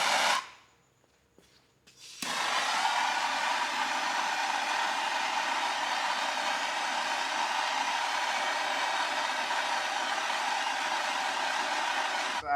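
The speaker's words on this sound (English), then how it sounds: "you can use a heat gun or a torch and shrink that" A heat gun shrinks heat-shrink tubing on a butt connector while cab lights are wired into a Ford F250, blowing a steady loud airy roar after a brief quiet start.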